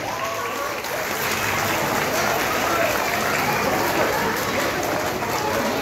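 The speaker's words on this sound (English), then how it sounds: "Please give them a big round of applause." A large crowd claps in a dense, continuous roar of applause at a school event in Kolkata, sustained and loud throughout with no breaks.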